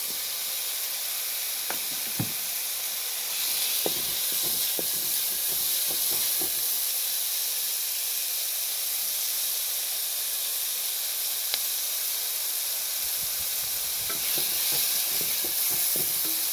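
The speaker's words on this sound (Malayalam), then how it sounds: "നമുക്ക് കറിവേപ്പിൻ്റെ ഇലയും 2 പച്ചമുളകും കൂടെ ഇട്ട് കൊടുക്കാം." Curry leaves and two green chillies sizzle in hot cooking oil, a steady broad hiss running throughout with scattered pops and crackles, close and fairly loud, with no talking.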